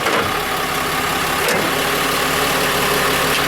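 A new Dodge 3500 truck with a transmission fault whose internal shifting is acting up runs with a loud, constant close-up engine drone and a brief shift in tone midway.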